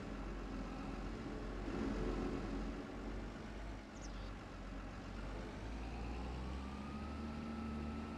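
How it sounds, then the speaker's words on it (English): A monster truck engine in the Farming Simulator 25 video game gives off a steady, loud, low rumble that holds through the whole stretch, with a slight swell early on and a brief dip near the middle. "we use a monster truck"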